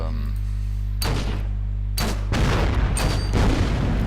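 Mortar fire in the WW2 strategy game Order of Battle booms out in several heavy, close blasts, with a low hum before the first impact and crackling rumble trailing after each.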